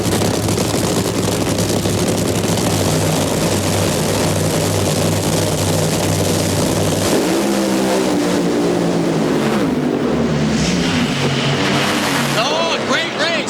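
NHRA drag cars launch at the 2003 Fram-Autolite Nationals in Sonoma with a loud, continuous thunderous roar that fills the whole stretch, then turn into a sweeping, shifting engine howl as they tear down the track.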